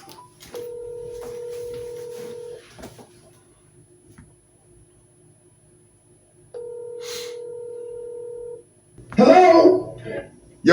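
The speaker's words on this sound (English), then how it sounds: "Let's try to get Steve on the phone." Two long telephone ring tones, each about two seconds with quiet gaps, clear and steady on a phone line, then a voice answering at the end.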